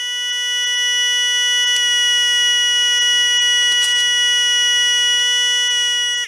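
A piezo buzzer driven by an LDR and NPN transistor circuit emits a continuous, shrill, piercing tone that holds steady and loud throughout before cutting off at the end.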